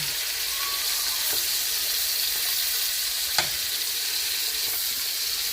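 Teal duck pieces browning in butter and a little oil in a pan give a steady, even sizzle with one sharp click partway through, and no talking.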